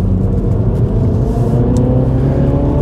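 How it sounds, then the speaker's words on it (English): A 2021 Mini John Cooper Works engine drones and revs steadily with its exhaust valve open, a throaty note, loud and close, heard from inside the cabin with no talking. "opens a valve in the exhaust, certainly pipes more noise into the cabin"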